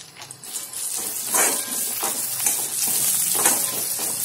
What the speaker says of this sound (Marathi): आता यात मी थोडेसे काजू टाकून घेतो।